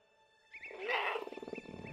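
Animated little tiger lets out a short growling roar in a cartoon, rising after half a second of quiet, then trailing into rhythmic rumbling grunts, close and fairly loud with no talk.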